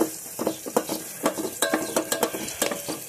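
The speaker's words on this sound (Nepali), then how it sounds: "प्याज पनि हालेँ मैले, यसलाई चलाउँदैछु।" Onions are stirred and fried in a pan: quick, repeated scraping strokes of a utensil ride over a moderate sizzle, up close and with no voices.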